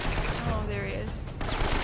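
Bursts of gunfire in the video game Uncharted: Drake's Fortune, rapid shots mixed with game sounds and a player talking over them.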